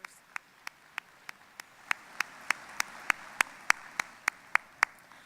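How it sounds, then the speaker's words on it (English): Steady rhythmic claps, about eighteen in a row, ring out at a leadership event for students and teachers, over a low background murmur of the room. "could you pause just a moment from eating and give these students and teachers a round of applause?"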